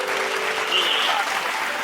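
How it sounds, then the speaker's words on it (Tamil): A church congregation at a Sunday Tamil service claps its hands, a dense, steady burst of applause filling the room at moderate loudness, with no voices coming through clearly. "கையத்தட்டு."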